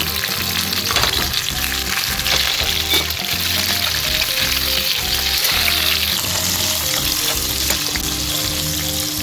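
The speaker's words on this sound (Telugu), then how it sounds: "మన మెయిన్ మనం చేస్తున్న మిర్చిక సాలన్ ఏదైతే ఉందో ఈ మిరపకాయలు ఇవి ఫ్రై చేసుకోవాలి" Green chillies frying in hot oil for mirchi ka salan make a loud, constant crackling sizzle, close up, with occasional stirring sounds and faint background music underneath.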